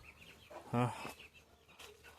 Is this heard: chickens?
yes